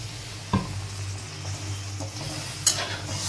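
Star fruit chutney cooks with sugar in a pan, giving a soft, continuous simmering sizzle with two distinct scraping stirs of a spoon against the pan.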